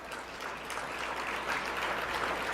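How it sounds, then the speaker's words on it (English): Audience applause at a hall of fame dinner, a soft, steady wash of many hands clapping across a large room, heard at a moderate distance and fairly quiet. "Round of applause for them."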